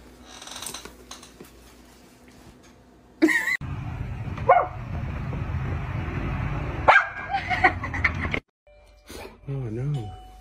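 A dog barks and yips close up in short bursts, with a whimper among them. A voice talks around the barks.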